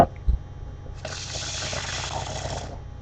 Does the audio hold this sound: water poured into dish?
yes